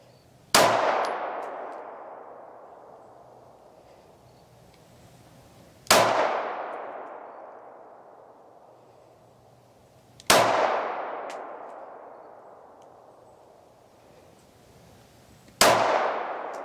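Four loud, sharp shots from an S&W Equalizer pistol ring out at intervals of about five seconds. Each crack is followed by a long fading ring, with no talking between the shots.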